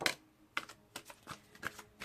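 Tarot cards are shuffled by hand close up, giving a quick run of soft papery riffles and clicks in five or six short bursts with no talking.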